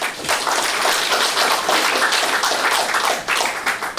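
Audience applause opening the founding ceremony of an interreligious national security coalition, dense continuous clapping from a sizable crowd, loud and close, lasting the whole stretch before tapering slightly.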